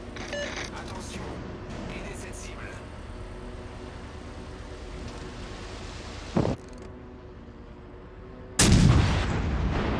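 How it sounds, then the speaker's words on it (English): Heavy naval gun from the front turret of the French battleship Champagne fires in a naval battle video game, two loud booming blasts standing out over a steady engine and ambient game rumble. "That's gonna shoot the front gun, the one I wanted to shoot"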